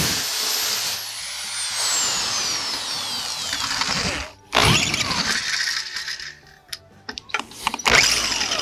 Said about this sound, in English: the pressure of the wood should allow me to drill